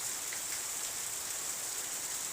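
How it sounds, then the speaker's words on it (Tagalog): Heavy rain pours down in a dense, even hiss with scattered drop patter, steady and unbroken from start to finish, with no voices. "pero ang ulan lumakas. Bumuhos na naman yung ulan."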